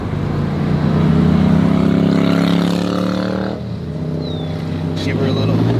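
A BMW Z3M on freshly fitted new tires revs and accelerates, its engine note climbing loudly before easing off. Voices chatter over the engine throughout.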